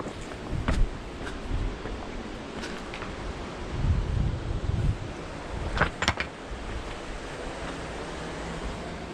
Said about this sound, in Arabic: البحر سارح شويه، راه ملي كيطلع كيوصل حتى لهنا.